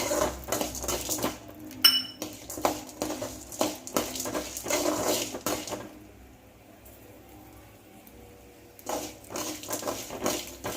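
A spoon scrapes and clinks against a metal pan while chana dal and urad dal are stirred for bottle gourd chutney, in repeated bursts close by with a brief quieter pause midway and no talk.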